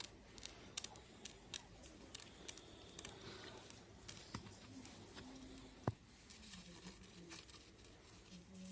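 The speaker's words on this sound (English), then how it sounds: "you will draw a circle on the blue glazed paper and you will try to cut it out." Scissors snip repeatedly through blue glazed paper to cut out a drawn circle, giving faint, close, crisp irregular clicks and small rustles against quiet background noise.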